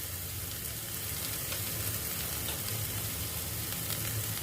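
Brinjal masala frying in a pan after chopped green chilies and cumin powder go in, giving a continuous, even sizzle with no talk.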